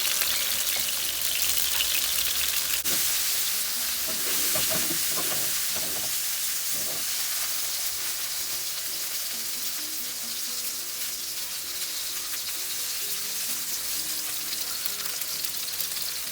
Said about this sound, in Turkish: Domateslerimi de arkalı önlü pişiriyorum.